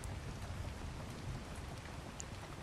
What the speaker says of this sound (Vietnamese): Mưa lại về.